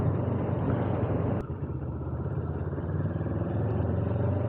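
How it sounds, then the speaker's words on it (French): A 73-horsepower motorcycle pulls steadily with a continuous low engine drone, accelerating moderately with no sharp rev peaks and a brief dip partway through. "la moto accélère encore assez bien"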